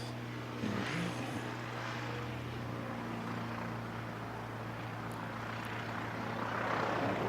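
A passenger aircraft coming in to land on runway 29 at Christchurch airport in a nor'wester, a steady distant engine roar in windy outdoor air with no talk.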